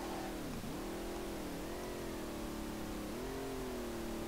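Nissan 350Z with a swapped VR38DETT engine of about 700 horsepower revving in the SLRR driving game, a steady, faint mid-pitched engine drone that dips and rises with throttle under heavy hiss.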